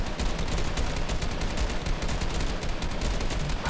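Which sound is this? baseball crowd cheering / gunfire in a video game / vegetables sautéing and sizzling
gunfire in a video game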